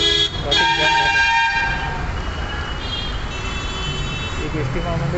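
Vehicle horns honk in a traffic jam on a road backed up by travel buses, a sustained, loud blare with layered tones over steady engine rumble and street noise.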